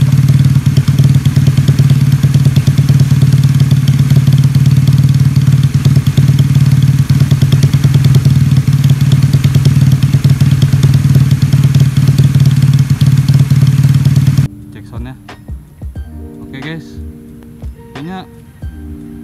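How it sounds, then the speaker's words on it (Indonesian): Honda Scoopy scooter with a leaking exhaust, a loud steady engine drone with rattly clatter that runs for most of the stretch before cutting off abruptly, leaving faint background noise. "Ini kalau mau cek sound nih knalpot gue lagi bocor"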